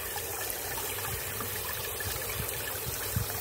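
A steady stream of water splashes and trickles while washing quail droppings, a continuous even wash with small irregular spatters throughout.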